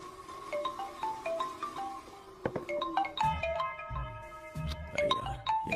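A melodic phone ringtone plays a repeating sequence of electronic tones, fairly clear and close, with low thumps underneath.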